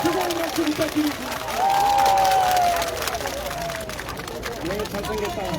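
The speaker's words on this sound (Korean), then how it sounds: "뜨거운 박수 부탁드립니다." Crowd at an outdoor campaign rally for Lee Jae-myung at Dongmun Market cheers and claps, a bustling mix of applause and voices with a rising shout in the middle and an announcer's voice above the crowd.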